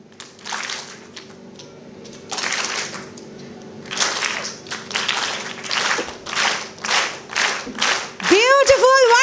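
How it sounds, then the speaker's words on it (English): An audience at an education awards event in an auditorium claps in unison on cue, producing a series of sharp, evenly spaced group claps between stretches of a speaker's voice, ending with a brief tonal squeal. "when I say one clap, just clap like this."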